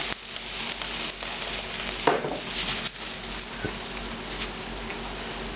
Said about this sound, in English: Now we're going to add our beef stock to this.